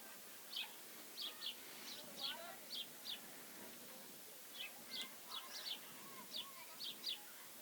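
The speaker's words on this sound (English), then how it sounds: "Just hear the cheeping of a few birds right now." Small birds cheep outdoors beside a high school girls' soccer game: short, high chirps in loose clusters of two or three, repeated through the stretch, faint and distant over a steady hush of outdoor ambience.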